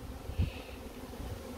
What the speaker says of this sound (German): Die obere ist das hier noch dazu, die ist auch rappelvoll mit Bienen.